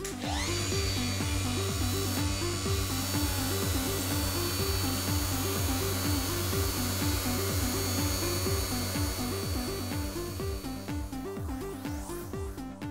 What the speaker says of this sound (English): Now I'm going to 400 grit. I sand the area already done and a little around it as well.